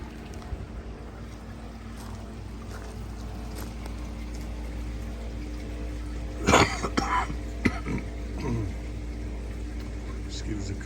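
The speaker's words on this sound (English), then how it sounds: "Excuse the cough, I've had a bit of a bad bug for about 6 weeks." A person outdoors coughs a few times in a short cluster over a steady low background rumble, with another brief cough moments later.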